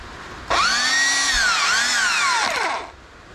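A Ramset rotary hammer drill runs continuously at close range in hammer mode, a loud whining motor with rising and falling pitch under rapid hammering, then winds down.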